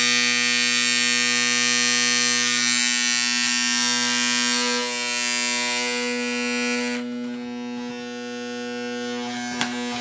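An electric hair clipper makes a harsh, steady grinding buzz with a strong hum. Its tone shifts and drops slightly partway through as it keeps running up close.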